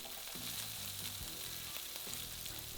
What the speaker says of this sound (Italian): Mentre questo rosola facciamo cuocere la pasta